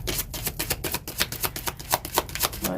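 Rapid riffling of tarot cards being shuffled, a quick series of crisp flutters and taps close by, with no voices.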